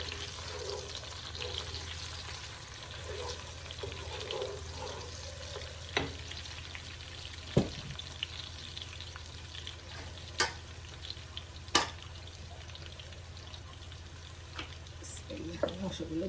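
Duck meat fries with a panch phoron tempering, plus bay leaves, cardamom, cinnamon and cloves, giving a continuous soft sizzle. Sharp clacks of stirring punctuate it now and then.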